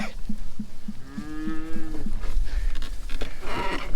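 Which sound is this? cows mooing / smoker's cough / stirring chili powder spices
cows mooing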